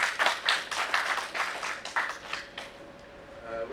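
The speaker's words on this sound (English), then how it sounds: "Please give them a huge round of applause." Applause and clapping from an audience at a professional seminar on business and company law, dense bursts of hand claps that thin out and fade toward the end.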